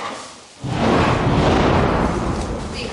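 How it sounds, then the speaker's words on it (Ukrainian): A sudden deep blast of an incoming missile strike erupts after a quiet moment, followed by a long, loud rumbling roar that lingers and slowly fades, like a distant explosion. "Весь цей час лунають вибухи."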